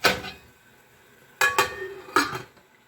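A lid is set onto a pot of boiling minestrone soup on the stove, giving three short metallic clanks spaced apart, the first loud and the next two close together, with quiet background between.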